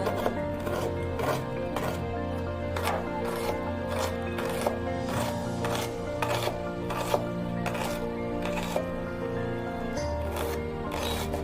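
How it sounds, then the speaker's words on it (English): Knife chopping fresh coriander leaves on a board for a crispy potato and semolina snack, a steady run of sharp, close taps at an even rhythm, with faint background music underneath. "finely chopped coriander leaves, add into the bowl"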